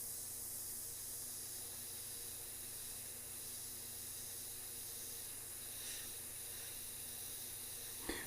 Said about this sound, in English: just kind of spray the whole thing and drop it down a little bit